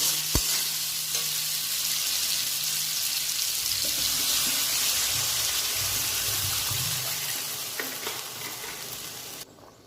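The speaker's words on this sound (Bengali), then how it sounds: "এবার আমি এর মধ্যে জল দিয়ে দেবো।" Water poured into a hot, sizzling pan for muri ghonto with fish heads, a loud continuous hiss and bubbling splash close up that fades away near the end.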